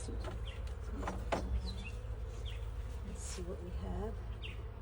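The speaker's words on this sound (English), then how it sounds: "This one's full of bees." Honey bees in an opened hive during a late-spring hive check, a steady low buzzing hum throughout with a person speaking briefly over it and faint bird calls in the background.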